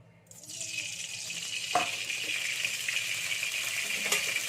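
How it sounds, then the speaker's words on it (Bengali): Oil hits a hot kadai with a sudden rushing hiss that swells and then holds as a steady, close sizzle for several seconds, with no talking. "কোড়াতে আমি তেল দিয়ে দেবো"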